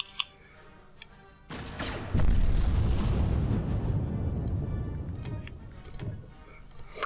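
Ship weapons open fire in a SOGE space battle game, a sudden loud roaring barrage that swells and rumbles steadily for several seconds before tapering off, with faint ticks before and after.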